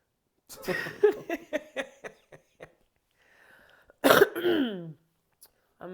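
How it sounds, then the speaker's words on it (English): A person coughs in a series of short bursts, then clears their throat with a longer, rougher sound after a brief pause. "Excuse the cough."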